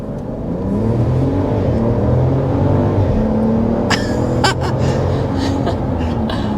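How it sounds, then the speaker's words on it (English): Inside a 2025 RAM 1500 Tungsten, its turbocharged inline-six pulls hard in sport mode, the engine note rising steadily through the gears with a brief shift break, loud and close, with no talk. "Sport mode acceleration."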